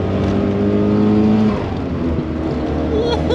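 Alfa Romeo 75 Evoluzione, a 1980s sports saloon, revving on a road test; a loud, steady engine drone with harmonic tones that rises, then settles into a rougher running note, close and continuous.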